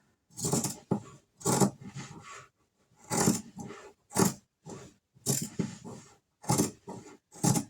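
Scissors cutting fabric for a coffee cup cozy, close crunching snips in short bursts separated by brief silent pauses, no speech.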